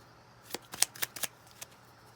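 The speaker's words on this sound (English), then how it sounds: "Being guided to shuffle this little deck, even though it's a little tough." A small, stiff tarot deck is shuffled in short separate riffles, several crisp papery bursts in an uneven rhythm, close and fairly quiet.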